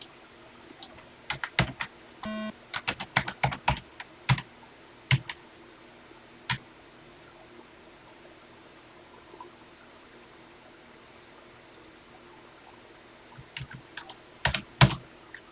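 Keystrokes on a computer keyboard while programming a TI-99/4A game, coming in quick clustered bursts at the start and end with a quiet gap in between, close and fairly clear.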